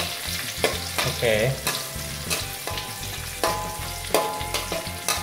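Chili and garlic fry loudly in a pan for a lemongrass fried quail dish, with a busy close sizzle and repeated stirring scrapes and knocks, and one brief spoken word.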